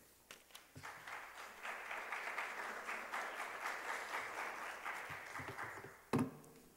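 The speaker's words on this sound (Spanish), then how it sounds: "Demos un fuerte aplauso a nuestros ponentes." Audience applauding the speakers at a university education conference, a sustained wash of clapping at moderate distance that builds and then fades out, with a few louder claps near the end.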